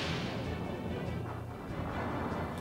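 A cannon fires during a battle in the video game Skies of Arcadia Legends, a deep, rumbling boom that spreads into a dense, roaring blast and fills the whole short stretch at moderate loudness.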